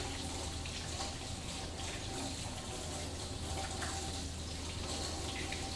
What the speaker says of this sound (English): Then I'm going to rinse them really good under the water.